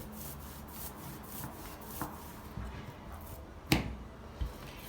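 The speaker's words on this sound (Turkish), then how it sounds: "Yufkamızı açıyoruz merdane yardımıyla güzelce" Pastry dough for Bosnian börek being rolled out thin with a rolling pin, giving soft continuous rubbing and scraping with a few light knocks, close and fairly quiet, with no talk.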